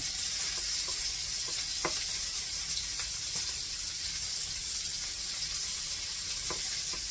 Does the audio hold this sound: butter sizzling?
yes